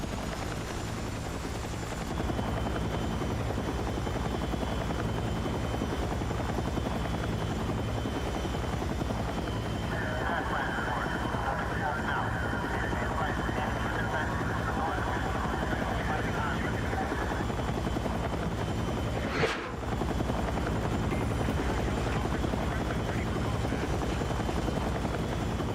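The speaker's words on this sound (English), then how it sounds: "Is this a transport heli? UH-79?" UH-79 transport helicopter in the Battlefield 6 video game, a steady loud rotor drone throughout with a brief sharp burst partway through, and a player talking over it.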